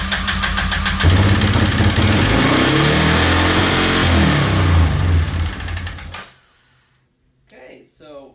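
A quad ATV engine starts up and runs at a high idle, loud and close, with a steady mechanical roar for several seconds before it cuts off abruptly, followed by quiet and a brief rustle.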